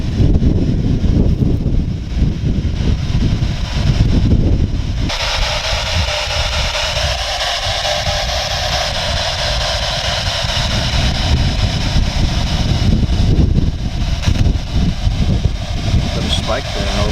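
Wind rumbles and buffets the microphone throughout in an old cemetery in Beaufort, North Carolina, with a steady mechanical whir in the middle stretch; faint voices speak intermittently.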